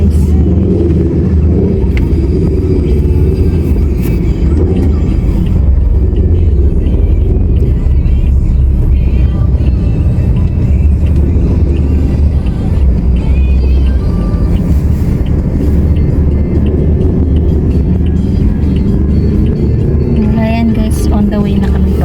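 Road traffic on a rainy day heard from inside a vehicle: a steady, loud low rumble of engines and tyres running throughout, with muffled voices now and then.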